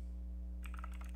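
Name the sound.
typing on a computer keyboard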